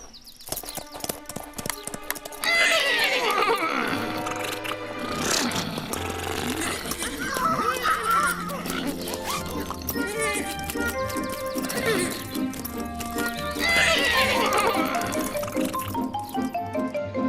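Sick horses in an animated cartoon, with hooves clip-clopping and occasional whinnies set against music, then speech, and a loud musical swell near the end.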